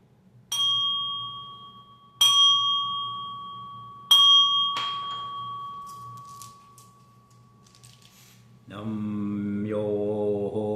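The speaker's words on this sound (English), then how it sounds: "we're going to get started with that, with the ring of the bell" A Buddhist meditation bell is struck three times, each a clear sustained ring slowly decaying, followed by a group beginning a low, steady chant together.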